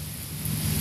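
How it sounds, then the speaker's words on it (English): Rain falls outdoors as a brief, steady wash of broadband hiss with a low rumble beneath, fairly loud and continuous, no talk. "And yes, it's raining, hence I'm in a poncho"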